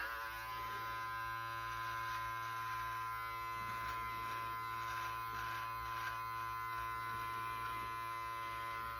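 An electric beard trimmer buzzes steadily as it trims neck hair, a constant close, faint electric hum with slight variations as it moves over the skin, no voice.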